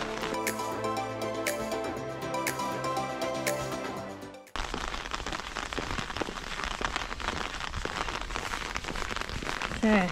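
Steady rain patters on a campsite tent field near Derwent Water in Keswick, a dense, even hiss filling the second half after a stretch of music.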